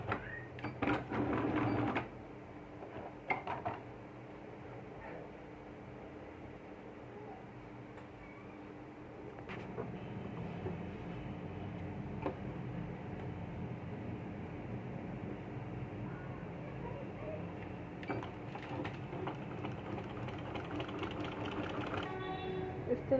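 A sewing machine runs steadily, stitching lace onto folded cloth for a baby yoke frock; a short louder burst opens, then a continuous mechanical whir holds through the rest at moderate level.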